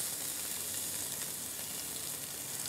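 Chopped fennel bulb sizzling steadily in hot oil in a pan with bay leaves, a close, even frying hiss with faint crackles throughout and no talking.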